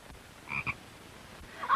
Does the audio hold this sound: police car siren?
no